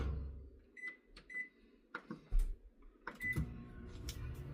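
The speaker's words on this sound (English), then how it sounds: "I'm going to stick that in the microwave for another minute" Kitchen microwave oven in use while baking a cake, with a low hum, several short electronic beeps and clunks of the door and handling, fairly quiet and without talk.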